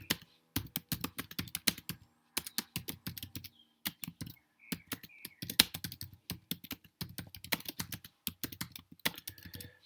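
Close, quiet typing on a computer keyboard in quick, uneven bursts of keystrokes with short pauses between words, nothing else audible.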